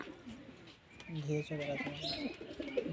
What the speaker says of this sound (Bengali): big size লালদম Payra